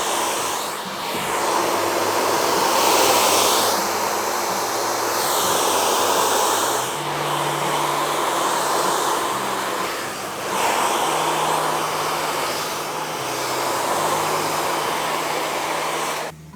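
Blow dryer running steadily through a barbershop haircut finish, a loud close whooshing roar that shifts in pitch and intensity as the airflow moves across the hair, with brief dips when it's angled away.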